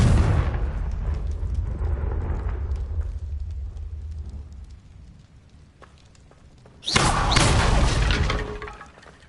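A Confringo fire spell from a Hogwarts wizarding video game goes off as a sudden, loud, wide blast near the end. It follows a long rumbling wash, and there is no talk.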